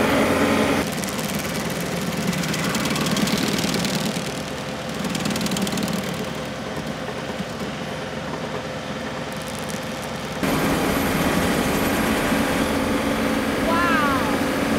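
A John Deere 2038R compact tractor drives a Baumalight stump grinder at wide-open throttle, giving a loud, steady engine roar that dips briefly mid-clip before surging back up, with people talking over it.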